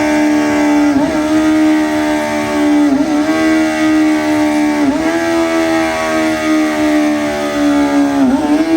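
A Kawasaki motorcycle engine revs hard and loud, climbing in pitch and snapping through quick gear changes roughly every two seconds, a continuous close high-speed run.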